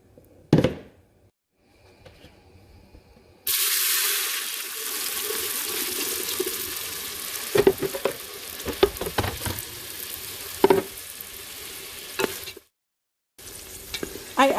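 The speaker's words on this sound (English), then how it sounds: "the oil is hot already, so I'm gonna start pouring the tomato sauce. And I'm gonna fry it a little bit" Tomato sauce poured into hot oil hits the pan with a sudden loud sizzle that keeps frying steadily, broken by stirring scrapes and clinks, then cuts out briefly before resuming.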